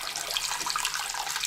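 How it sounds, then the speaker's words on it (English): Warm water runs steadily from a tap into a sink, a continuous close hiss of splashing without pause, used for wet-sanding a model kit. "fill the sink with some"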